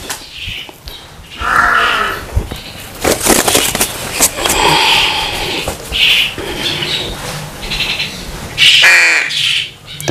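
Harsh, repeated crow squawks and screeches ring out close by, loud and irregular, with scuffling noise between the calls.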